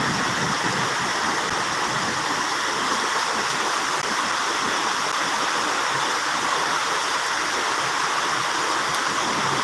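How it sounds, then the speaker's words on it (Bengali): Heavy rain pours down over Uttara in Dhaka, a dense, even roar of water on streets that stays loud and unbroken throughout, with no voices. "অনেক মেঘ কাচ্ছে অনেক বৃষ্টি"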